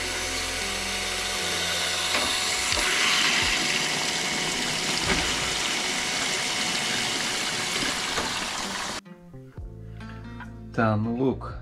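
Water flowing into a water softening and iron removal system with a control valve: a loud, steady rushing hiss with mechanical whine runs for about nine seconds, then cuts off abruptly, after which a voice speaks briefly.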